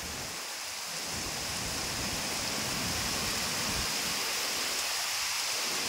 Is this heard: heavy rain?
yes